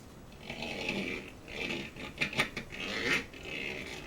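A Funko Gizmo Duck toy's wheel spins freely on its axle, giving a soft whirring, scratchy rolling sound that swells and fades in several quiet passes.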